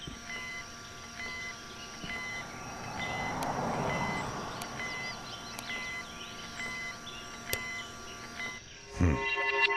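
A water flow monitor near a dam in the game INFRA emits steady, evenly spaced electronic beeps over a constant hum and ambient background, ending with a short mechanical clatter.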